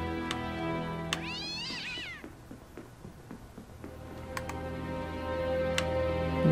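A cat in the horror adventure game 2Dark lets out one clear, wavering meow near the start, followed by a steady ticking like a clock over a low ambient hum.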